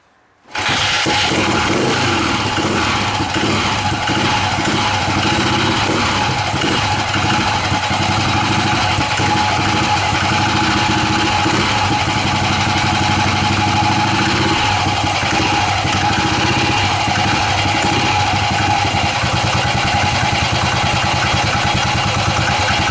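BSA B50 single-cylinder motorcycle catching on the kickstart and then running steadily, a loud, continuous close-up engine idle with a fast uneven thump that holds unbroken to the end.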